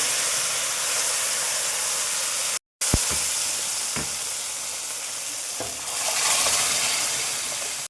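Taro leaves frying in hot oil with garlic and green chili give a steady, close sizzling hiss, broken by a brief gap and a few soft stirring knocks, with the frying swelling louder toward the end.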